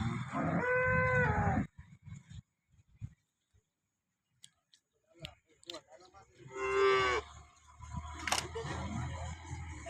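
Two cows moo at a village cattle market in Banaskantha, Gujarat, with two loud, close, drawn-out calls separated by quiet stretches and scattered clicks and handling noises.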